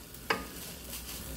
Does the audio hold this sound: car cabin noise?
no